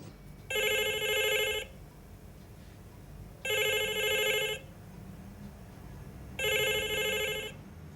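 Landline telephone at a cafe ringing in three separate bursts of electronic trilling, each about a second long with regular pauses between, close and clear over a quiet room.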